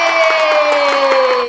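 A live audience cheers and shouts in a burst of crowd noise lasting about a second and a half, loud and close, with a steady held tone running underneath before the sound cuts off abruptly.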